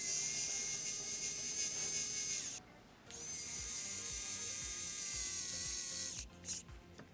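A WowStick electric precision screwdriver, run on two AAA batteries, whirs in short bursts, a thin high buzzing motor that stops briefly, starts again, then cuts out with a few small clicks. The sound is close and fairly quiet.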